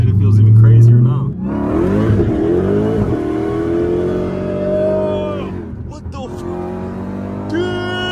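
A Chrysler car engine revs hard and climbs in pitch as it accelerates with tires spinning, loud and close, with voices talking over it.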